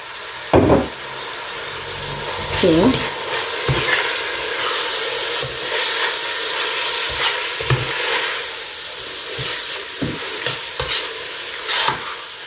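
Meat and carrot stirred as they fry in a pan for mango pasta: a steady bright sizzle with repeated scraping thumps of the spoon every second or two, close and continuous throughout.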